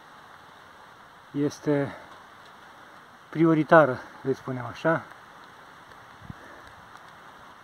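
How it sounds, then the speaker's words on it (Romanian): Light rain patters softly and continuously in the background of an outdoor rural scene, a faint even hiss beneath a man's short bursts of speech. "O ploaie binecuvântată, o ploaie așteptată, care mă forțează să mă opresc."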